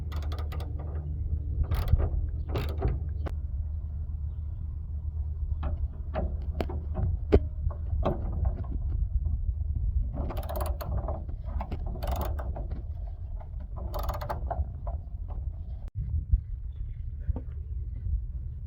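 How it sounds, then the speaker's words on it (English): A socket ratchet clicks in repeated bursts while loosening the 13mm fuel tank strap bolts on a 2002 Ford F150, close and distinct over a steady low background hum. "we have 2 13mm bolts, one on each fuel tank strap. So let's unbolt those now."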